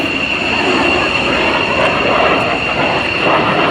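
A 75-year-old British airplane flies at the Dayton air show, its engine giving a loud, steady, broadband drone that holds without a break.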